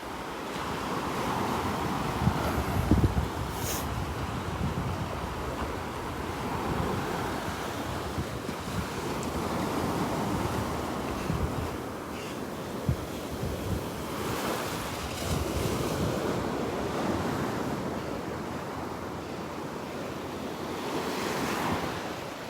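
Waves and surf roll in steadily along the shore at Delnor-Wiggins beach, with wind buffeting the microphone throughout; a continuous broadband wash with swelling breakers and no voices.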